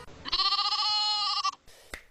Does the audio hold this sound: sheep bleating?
yes